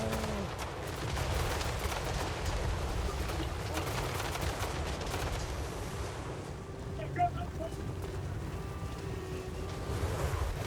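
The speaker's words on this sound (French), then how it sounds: "t'as le seigneur ennemi qui court au milieu des explosions" Dense, continuous rumbling bursts of gunfire and explosions fill a video game battle between Empire and Dwarves armies, a loud chaotic din without pause, fading slightly in the second half.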